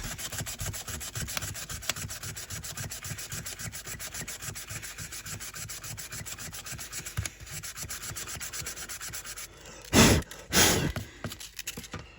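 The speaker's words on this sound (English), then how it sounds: "So now I'll be using a piece of sandpaper to make the cut spots smooth." Sandpaper rubbed by hand over the freshly cut plastic posts inside a Game Boy DMG shell, a steady run of close, soft rasping strokes with a louder knock or two near the end.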